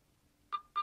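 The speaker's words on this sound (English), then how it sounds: "Tap the on-screen shutter and there's a second or two of focusing and beeping before the photo gets taken" An LG Optimus 2X phone camera gives two short, clear electronic focusing beeps before taking a photo, spaced about a quarter second apart against near silence.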